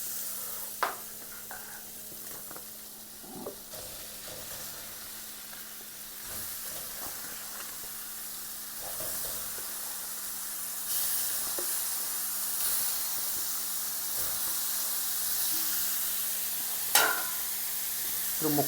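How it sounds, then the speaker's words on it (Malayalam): Chicken sizzling and frying with softened onions in a pan for a Kerala-style chicken stew, a steady close hiss broken by occasional sharp stirring scrapes and clinks. "ഇനി ഇതിലേക്ക് നമുക്ക് ഒരു 3/4 കിലോ ചിക്കനാണ് ഞാൻ ചേർക്കുന്നത്."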